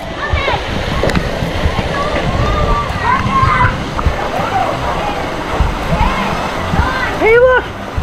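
Water splashes and sloshes over Paw Patrol toys at a resort, with repeated close-up splatters and a running watery backdrop, while a child and an adult talk and squeal over it.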